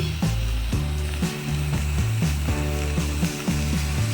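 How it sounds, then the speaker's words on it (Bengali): Oil with dried red chili and mustard seeds sizzles in a wok, a steady loud hiss close by, with regular clanks and scrapes from a utensil against the pan. "এই কড়াইটা এবারে তেল আর শুকনো লঙ্কা এবং সর্ষে ফোড়ন দিয়ে ছকাবো।"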